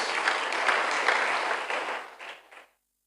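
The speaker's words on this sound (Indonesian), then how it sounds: "Tepuk tangan lu beri pujian buat Tuhan Yesus" Applause from a congregation at a church revival service, a dense steady patter of many hands clapping that fades out over the last second or so, with no talk over it.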